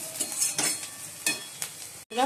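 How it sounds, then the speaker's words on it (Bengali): Onions fry in a pan with a close sizzle and repeated stirring scrapes in an uneven rhythm, the sound cutting out briefly near the end before resuming. "চলো পেঁয়াজটা ভেজে নিই।"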